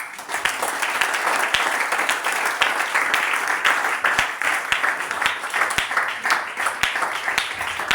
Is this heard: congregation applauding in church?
yes